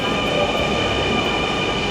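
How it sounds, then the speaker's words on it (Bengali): A Dhaka Metro Rail train rumbles and hums steadily as it arrives at a station, a constant loud mechanical drone with a faint high whine. "তো মেট্রো চলে এসেছে"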